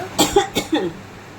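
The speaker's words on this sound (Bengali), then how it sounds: "এত কাশি হচ্ছে" A person coughs three or four times in a quick, close, loud burst, followed by quiet.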